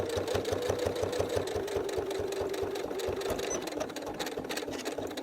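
A sewing machine stitches a mini wallet in a fast, steady mechanical chatter that runs continuously and close up, with no talking over it.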